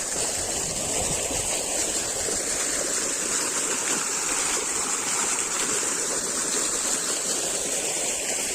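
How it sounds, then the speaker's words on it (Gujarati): Irrigation water flows into a maize field, making a steady, continuous rushing wash that stays even and fairly loud throughout, with no voices. "પણ જ્યાં સુધી હાલે ત્યાં સુધી મકાઈમાં પાણી ચાલુ છે."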